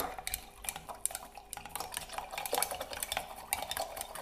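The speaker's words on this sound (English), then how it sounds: "Continue stirring." A chopstick stirs sugar water in a glass jar for making water kefir, with raisins added, producing quick repeated clinks and scrapes against the glass in a steady irregular rhythm, close and clear with no talking.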